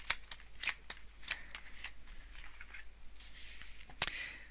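Tarot cards being shuffled by hand, a series of quick close riffling and sliding bursts with short pauses, quiet overall, ending in one sharper snap of cards, with no talking.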